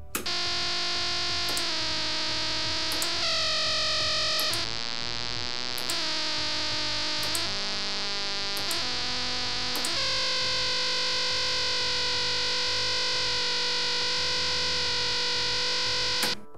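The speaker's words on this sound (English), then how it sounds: "This top one is using a TL-074, and we can hear the pitch from the TTO is kept pretty constant between samples." A synthesizer oscillator is modulated by a dual sample-and-hold circuit built on a TL074 op-amp, stepping between steady held pitches with sharp clicks at each new sample, a buzzy distorted tone sounding loud and alone throughout.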